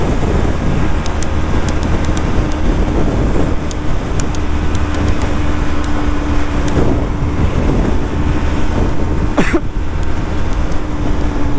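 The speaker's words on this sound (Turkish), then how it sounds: "Biraz oynayalım şu motorla ya. Daha 6. vitese atmadık." Motorcycle riding fast on a highway, heavy wind rush over the microphone masking a steady engine drone, constant and loud throughout.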